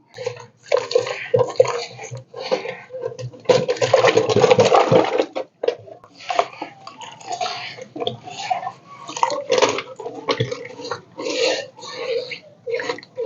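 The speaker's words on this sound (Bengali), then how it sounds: "আমি বালিটাকে ধুয়ে নিচ্ছি" Red sand being washed with water, heard as sloshing and gritty swirling in bursts of splashing, with a louder churning stretch in the middle.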